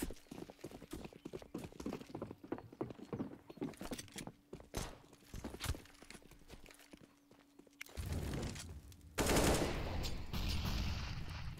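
Rapid AK rifle gunfire in a Counter-Strike match, dense bursts of sharp shots and clatter building toward louder blasts near the end, with no one speaking.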